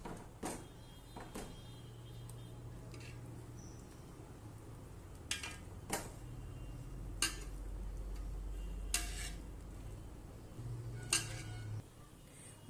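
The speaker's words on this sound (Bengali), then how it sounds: "একটু আমি নেড়ে দেব।" A spoon stirs butter melting in a pot to make ghee, giving sparse, sharp clinks and taps against the metal over a low, quiet simmer.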